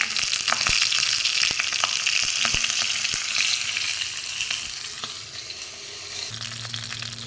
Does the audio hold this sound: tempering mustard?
yes